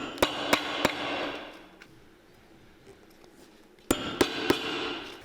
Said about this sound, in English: we'll just hammer this down to take a mold of the rubber